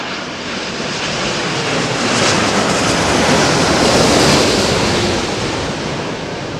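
An aircraft landing at London Heathrow Airport produces a loud, sustained broadband engine roar that swells and then slowly eases, heard at a distance with no talk.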